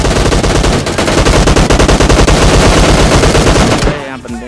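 Rapid automatic gunfire from PUBG, a dense continuous burst of loud shots that cuts off near the end, with no talk.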